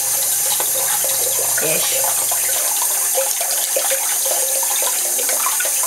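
Warm water runs steadily from a bathroom tap before washing the face with a foaming cleanser, a continuous hiss and splash throughout, with a brief spoken word early on.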